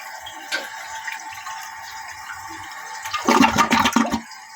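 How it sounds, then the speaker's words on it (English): Rebuilt 1984 Kohler Rochelle toilet flushing close by, a quiet start that builds into a rushing surge of water through the bowl, then refill gurgling. "Still flushes very well."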